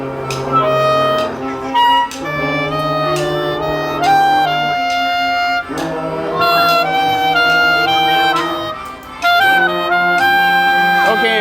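Children play an ocarina, sounding clear, pure held notes that step through a simple melody, near and fairly loud with brief pauses between phrases.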